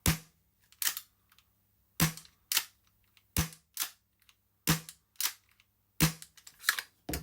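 Tokyo Marui Glock Gen5 airsoft pistol firing six sharp snapping shots, roughly one every second or so in loose pairs, each a crisp close crack with a quick decay and no talking between them.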